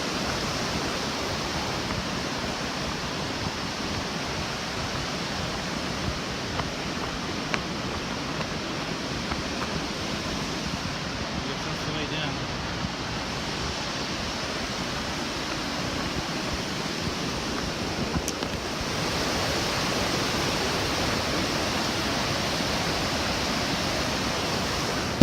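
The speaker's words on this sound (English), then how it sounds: "the waterfall you saw earlier was Nevada Falls" Nevada Falls in Yosemite roaring as a broad, steady, dense rush of falling water, loud and unbroken throughout with no voices.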